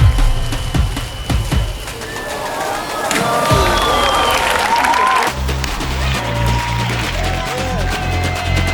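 A crowd at a Red Bull cliff diving event cheers and claps in a loud, wash-like swell, with whistles and shouts rising over wet outdoor ambience and a low rumble entering midway.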